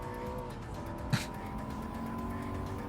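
A race car engine in Gran Turismo 7 hums steadily at moderate revs at partial throttle, with a brief tire or impact noise near the middle; steady, game-like engine drone throughout.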